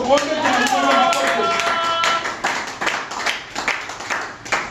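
Church congregation clapping in praise of the Lord, many hands clapping in a steady rhythmic beat that grows sparser, with singing voices over the start.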